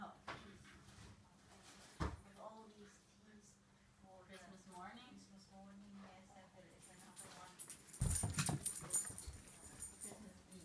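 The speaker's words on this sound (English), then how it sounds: "the dogs are so excited, the little ones, they're just playing nonstop" Little dogs play excitedly at a family home on Christmas Day, with scrabbling paws, bumps and small whimpers scattered throughout, a sharp knock near the start and a louder clattering burst toward the end, and muffled voices faintly in the background.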